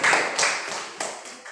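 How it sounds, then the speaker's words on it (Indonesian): A classroom of students applauds, a burst of clapping that swells and fades over about a second and a half, with no talking. "Silakan berikan aplaus dulu"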